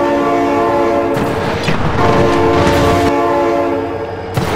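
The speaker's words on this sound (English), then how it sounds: "Oh my God, train!" A train in the BeamNG driving game blasts a loud, sustained multi-tone horn right up close, with rumbling rail noise and rattling beneath it throughout.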